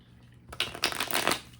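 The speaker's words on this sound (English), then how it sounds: "One more shuffle." Tarot cards are shuffled in one quick, close burst of riffling and papery flutter that rises suddenly after a quiet moment and fades out.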